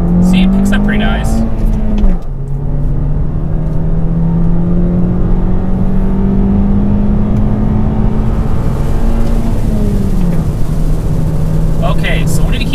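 A 2019 Toyota Corolla hatchback with a manual gearbox accelerates in first gear from a slow roll, its engine droning loudly with steadily rising pitch, then easing off before climbing again, with talk over the top.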